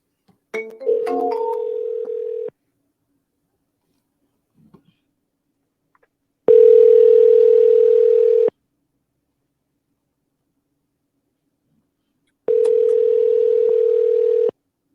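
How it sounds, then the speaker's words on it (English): Telephone dial tone heard while placing a cold call, opening with brief keypad beeps and then three steady two-second tones separated by long silences, loud and clean. "About to do my first dial right here."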